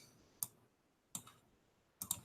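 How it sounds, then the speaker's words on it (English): Three sparse, faint clicks spaced apart like single keystrokes on a computer keyboard, quiet and close, with no talk. "Let's see if we could type that in."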